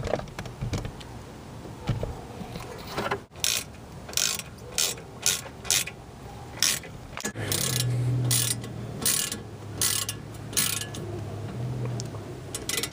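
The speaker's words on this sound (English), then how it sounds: "We're gonna go ahead and put the slide pins back in." A ratchet works on the brake caliper slide pins of a BMW E36 front brake, giving repeated bursts of quick clicking with pauses between them, close and clear, with a low hum in the background and no voices.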